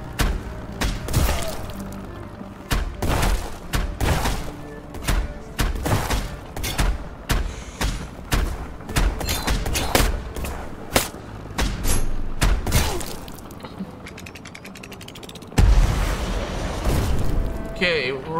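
Torpedo explosions in the video game Black Skylands: a dense series of loud booms and thuds in uneven bursts, close and punchy, with a voice talking over parts of the action.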